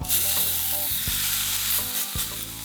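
Steak frying in a very hot pan, a loud, dense and constant sizzle close up, with a few sharp knocks or scrapes of the pan breaking through.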